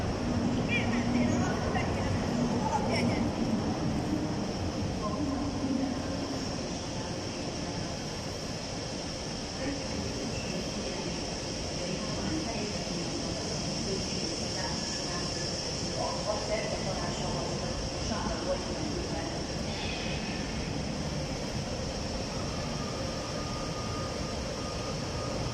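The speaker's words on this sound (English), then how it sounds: "one of the electric locals from the Austrian National Railways arrived" An electric local train of the Austrian National Railways pulls into Budapest Keleti station with a steady, broad rumble that fills the hall, set against busy station ambience.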